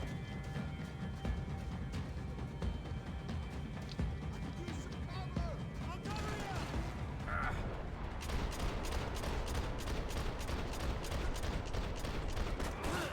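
Gunfire bursts in the shooter game Max Payne 3 over Hoboken, rapid shots and clattering mechanisms mixed with game sound, growing into a dense run of sharp repeated cracks in the last seconds.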